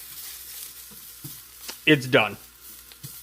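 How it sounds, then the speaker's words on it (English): Egg in bread frying in a pan, a soft, steady sizzle running underneath as the heat is turned off, with a person speaking briefly partway through. "Go ahead and get that kind of sizzling there."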